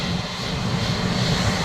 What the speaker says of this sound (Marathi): ते विमान बघा चाललं टेक ऑफला.